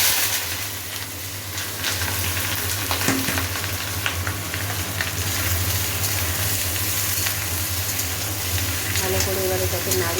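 Potatoes hit hot oil already tempered with nigella seeds and green chilli, giving a steady, close, broadband sizzle and frying hiss that runs the whole time under a faint low hum.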